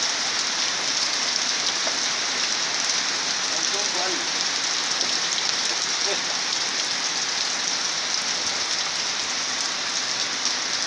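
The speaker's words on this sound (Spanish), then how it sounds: "Está bonita la lluvia, me puso fresco ya." Steady rain pours down outdoors in El Salvador, a dense unbroken hiss of drops on surfaces, close and fairly loud, with faint scattered ticks beneath and no clear talk.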